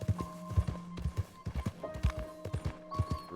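Horse hooves clip-clop in a steady, quick rhythm as a rider travels in a video game, each hoof strike a distinct nearby knock, with faint sustained tones running underneath.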